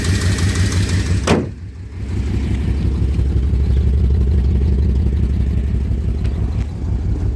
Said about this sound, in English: I'll try to drive this thing back and forth in the yard